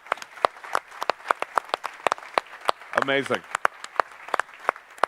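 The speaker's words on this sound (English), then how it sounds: "So give yourselves a warm round of applause" Conference audience at a security event claps in a sparse, crisp round of applause up close, with a brief spoken exclamation midway.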